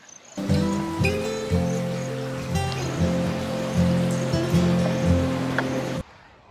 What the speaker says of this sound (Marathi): एकदम जोरात पाऊस आलाय तिकडून